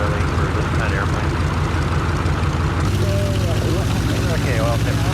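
An A6M5 Zero warbird's propeller engine runs on the ground in a loud, continuous, throbbing drone that shifts pitch slightly partway through, close up, with someone talking over it.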